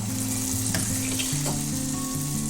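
Banana donut batter, eggless, scooped into hot oil in a kadai, fries with a steady broadband sizzle and a few soft clinks, close and continuous with no talking.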